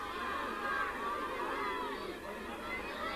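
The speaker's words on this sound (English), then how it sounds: "The Buckingham crowd beginning to get behind their side now" Football crowd at a 1984 FA Cup first-round match between Buckingham Town and Orient, a steady mass of distant cheering and chatter swelling gently, with no clear voices standing out.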